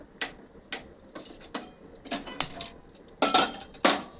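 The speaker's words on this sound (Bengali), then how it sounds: "এবার আমি গ্যাসটা জ্বালিয়ে দেবো" A kitchen gas stove's igniter clicks about a dozen sharp, separate times at an uneven pace as the burner is lit, with no talking.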